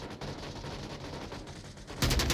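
Gunfire from the VR shooter Onward rattles as a rapid burst of shots, fairly faint at first, then jumps louder and closer for the last moment.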